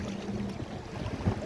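A small boat out on a deep lake, with low rumbling and soft water wash around the hull, steady and moderately quiet over a brief stretch.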